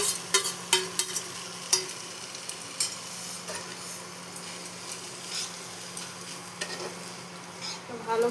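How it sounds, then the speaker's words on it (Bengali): Fish is stirred into a spice mixture in a pan for a maacher chop filling, giving scattered scraping and stirring clatters with a soft sizzle over a low steady hum. "মাছটা দিয়ে মশলাটা মিলিয়ে নেবো এর মধ্যে।"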